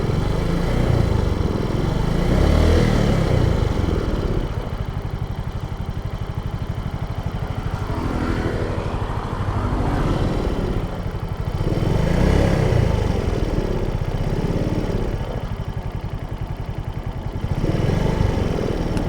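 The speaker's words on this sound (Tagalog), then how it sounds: "kung nawala ba yung tik-tik sound, kung naririnig nyo pa rin." A 2025 Suzuki Smash motorcycle idles close by in a steady, unbroken putter, checked for a ticking noise, while passing traffic swells and fades behind it.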